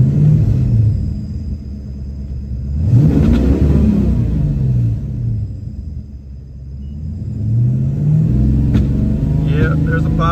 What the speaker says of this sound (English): Let me rev it from inside the car. Alright, do another, just in neutral, not underneath a load.